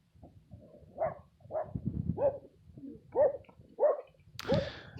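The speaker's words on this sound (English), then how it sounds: "There goes all the dogs chasing a coyote." Several dogs bark outdoors while chasing a coyote, a string of spaced, moderately loud barks and yelps ending in a sharper burst.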